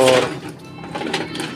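A sewing machine hums and clatters on a village rooftop in a fast mechanical whir, with a voice speaking over it.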